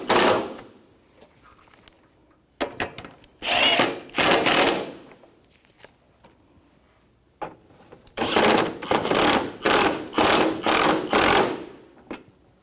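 A power tool fitted with a 10mm socket drives in the headlight assembly bolts on a 2009-2014 Nissan Maxima, sounding as close, buzzing whirs in several separate bursts of a second or two each.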